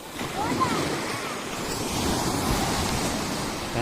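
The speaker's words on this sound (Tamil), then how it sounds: "பெரிய அலைகள்லாம் வருது, பெரிய பெரிய அலைகள்லாம் இருக்குது" Steady roar of large ocean waves breaking on a beach, with continuous surf wash and some wind rumble, loud and close throughout.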